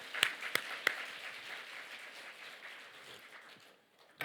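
A church congregation at a festival worship service claps: a few sharp, distinct claps up front, then a softer, scattered patter of hands that thins out, fairly quiet overall.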